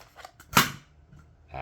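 A toy blaster is primed and fired up close: a short mechanical rattle, then a sharp snapping shot, and a brief clatter right after.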